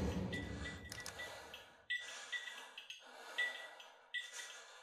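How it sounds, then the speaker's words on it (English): Heavy breathing in a horror video game comes in repeated breathy bursts, each inhale or exhale separated by near-silence, fairly close and soft. "the heavy breathing as well"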